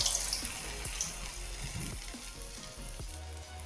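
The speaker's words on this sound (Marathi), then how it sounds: "असं करून हे तेलात असं सोडायचं." Medu vada (urad dal batter) frying in hot oil: a steady, fairly quiet sizzle and bubbling with a few soft plops and stirring movements, no voices.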